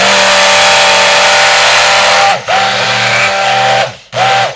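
A loud, steady electric motor whine from an immersion blender mixing soap oils with the wand kept below the oil, cutting out briefly twice as the motor is stopped and restarted.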